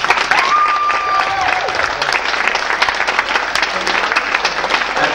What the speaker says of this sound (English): Final round of applause, please.